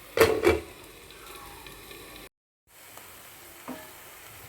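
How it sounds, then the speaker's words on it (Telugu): Mint leaves and tamarind frying in a pan as chutney is cooked, with a couple of loud scraping stirs at the start, then a quiet steady sizzle broken by a short silence and a faint clink. "ఇలా వేగేటప్పుడు చింతపండు కూడా వేసి మూత పెట్టేయండి ఒక మగ్గిపోతుంది మధ్య మధ్యలో తిప్పుకుంటా ఉండండి"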